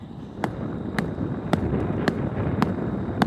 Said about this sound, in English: That sledgehammer was the key to the success of the Earthship.